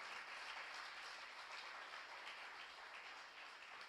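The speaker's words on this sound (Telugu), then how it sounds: "గట్టిగా బిగ్గర కొట్టాలి చప్పట్లు." A church congregation claps together in a continuous, distant-sounding patter of applause, with no voices over it.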